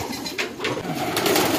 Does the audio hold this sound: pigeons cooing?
yes